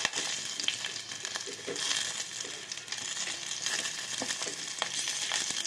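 Curry leaves fry in hot oil with garlic and green chillies for Karnataka-style tomato bath, making a continuous loud, crackling sizzle with occasional stirring scrapes and no talking.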